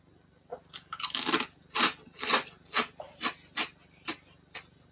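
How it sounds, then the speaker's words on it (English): A sandwich dressed with sour cream instead of mayonnaise is bitten and chewed close up, giving about a dozen loud, sharp crunches in an uneven rhythm with no talking. "got to give you guys the ASMR crunch"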